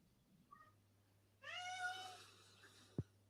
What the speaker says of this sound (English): Oh, now my cat's gone off.